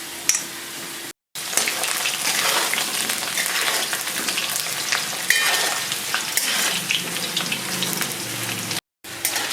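Potatoes frying in a pan in a home kitchen, giving a steady loud sizzle throughout with brief stirring noises and two short gaps of silence.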